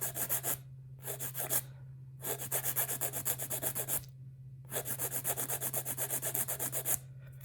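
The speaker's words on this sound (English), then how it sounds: "As you can see, I'm kind of really going in on my file here" A nail file rubs an artificial nail in quick back-and-forth strokes, grouped into several bursts with short pauses between them, close and fairly quiet, with no talking.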